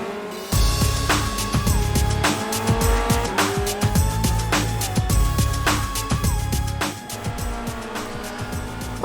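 A Formula Renault race car on a sunset lap of Suzuka circuit: loud engine roaring up through the gears with sharp, repeated gearshift cuts and rising revs, close and continuous throughout.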